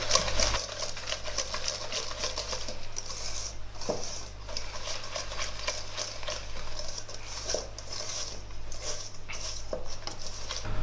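A utensil scrapes and taps steadily in a bowl as flour is mixed into galette batter, the soft clinking repeating over a low background hum.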